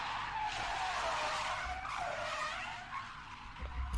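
A black Nissan Sunny drifting at a Saudi Arabian drift event, its tires screeching in a continuous loud skid that rises and falls over several seconds, with no speech.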